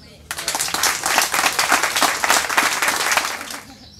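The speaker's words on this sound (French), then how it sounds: "applaudir les chiens si c'est possible." An indoor crowd at an open house for diabetic assistance dogs breaks into lively, close applause, a dense burst of many hands starting abruptly and continuing steadily for about four seconds.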